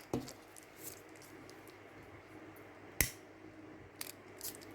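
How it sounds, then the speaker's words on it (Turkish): Scissors cut plastic canvas while a bag is being made, giving a few sparse, quiet snips spread across an otherwise hushed room. "Şurada azıcık kesiyorum"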